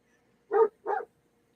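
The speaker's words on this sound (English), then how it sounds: "Sorry about the dog out there." Two sharp barks from a dog outside, one right after the other, clear and moderately loud against an otherwise quiet background.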